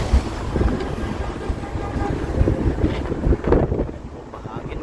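Wind buffeting the microphone by Tower Bridge in London, a steady low rumbling gusty roar with faint river and city noise underneath, while a voice speaks now and then.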